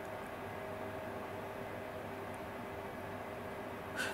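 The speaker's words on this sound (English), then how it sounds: "I apologise about the noise of the fans in the background." Steady broadband whir of cooling fans running continuously in the background while hundreds of 18650 lithium cells are being tested, with no speech, holding an even level throughout.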